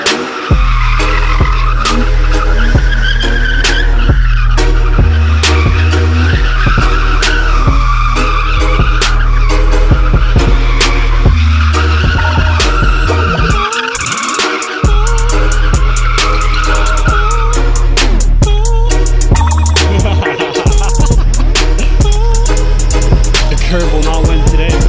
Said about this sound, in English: I'm gonna burn off my tires for you guys